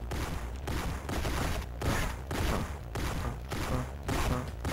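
Rapid bursts of gunfire from the shooter game GoldenEye Rogue Agent, loud repeated volleys in a steady pulsing rhythm with short gaps between them.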